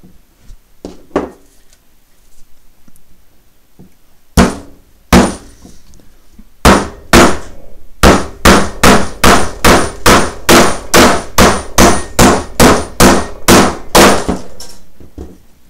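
A hammer drives real nails into wood with loud, sharp strikes: a few scattered blows at first, then a long steady run of about fifteen rapid, evenly spaced hits, close and clear with no talking.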